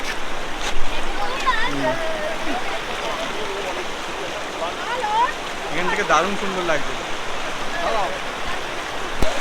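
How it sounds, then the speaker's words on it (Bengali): The Rimbi river near Pelling gurgles and rushes over stones, a steady close water roar running throughout while a person speaks over it. "নদীর কলকল শব্দ"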